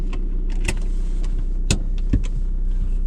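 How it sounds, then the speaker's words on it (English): Honda Civic EK driving with its VTEC engine, a steady low engine drone with a few sharp clicks and knocks over the top, with no talking. "Let's see how that sounds. Our VTEC noises."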